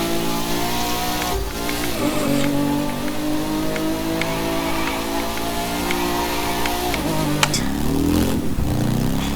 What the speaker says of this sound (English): listen to this Harley